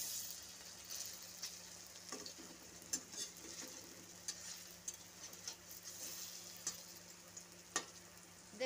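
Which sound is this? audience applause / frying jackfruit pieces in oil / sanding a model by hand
frying jackfruit pieces in oil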